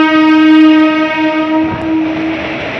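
A passenger train sounds a long, loud, steady horn blast close by, with the rumble of the moving train continuing beneath it as the horn fades.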